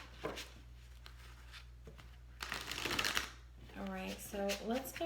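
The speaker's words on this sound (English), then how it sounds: "I'm going to do one more shuffle." Cards are riffled and shuffled in quick papery bursts, close up, and a voice speaks briefly near the end.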